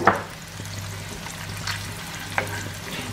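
Two tablespoons of capers frying in butter in a pan until crisp, giving a steady close sizzle with a few brief louder pops and crackles and no talking.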